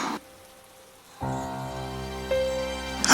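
Rain falling as a sound effect, starting after a brief silence and building into a steady wash, with a sustained tonal hum joining near the end.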